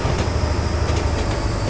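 An AI-driven train passes in Train Simulator 2015, a loud, steady rumble of rolling wheels and railcars with faint clicking, heard alone without talk.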